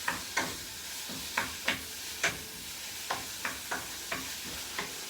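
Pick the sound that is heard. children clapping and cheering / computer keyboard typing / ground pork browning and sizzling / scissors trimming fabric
ground pork browning and sizzling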